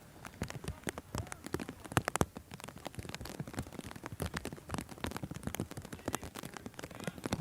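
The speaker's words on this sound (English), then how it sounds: "The rain continuing, not giving up." Heavy rain falls during an NCAA men's soccer match between Mercer and Virginia Tech, a dense, quiet patter of drops hitting surfaces steadily throughout with no voices.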